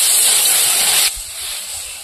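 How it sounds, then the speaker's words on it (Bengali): Water poured into hot oil with mustard seeds, panch phoron, salt and turmeric in a pan on a clay stove, a loud close hissing sizzle that drops abruptly to a softer steady hiss. "এবার জল দিয়ে দেবো।"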